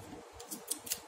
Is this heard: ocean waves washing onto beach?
no